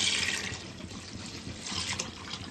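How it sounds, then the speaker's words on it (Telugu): Tamarind pulp water is poured into cooked dal for Telangana-style pappu charu, a close, soft liquid trickle and splash running continuously and fairly quietly. "ఇలా చింతపండు గుజ్జు వాటర్ దీంట్లో పప్పులో వేసేసుకోండి"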